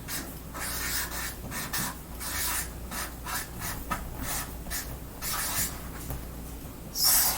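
Marker or chalk writing a title on a classroom board: a series of short scratchy strokes and rubs in irregular bursts, fairly close, with brief pauses between words and no talking.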